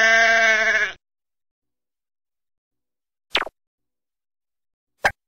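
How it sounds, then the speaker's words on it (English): A sheep gives one long, loud, wavering bleat up close, followed by silence and two brief plopping clicks. "The sheep. La oveja."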